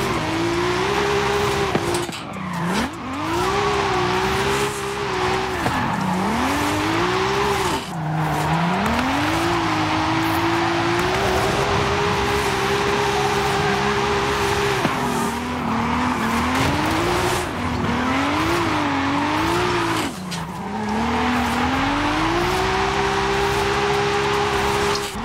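Toyota Supra wide-body drifting in Forza Horizon 5, its engine note revving and wavering continuously through slides, with tire squeal layered over a steady loud drone and brief dips around shifts.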